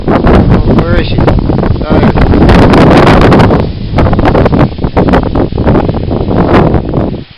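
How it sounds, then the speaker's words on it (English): Strong gusts of outdoor wind, around 17 miles per hour, roar and buffet the microphone steadily and loudly throughout, with muffled voices partly buried in the noise. "Got lots of wind."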